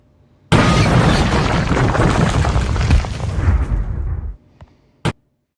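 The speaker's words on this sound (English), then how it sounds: "The collision echoed across the yard." Two train engines slam together in a rail yard with a sudden loud crash, followed by about four seconds of dense clattering and rumbling debris that cuts off, then a few sharp metallic knocks at the end.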